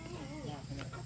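A farm chicken clucks softly and close by in a short, quiet burst of low warbling calls over faint background noise.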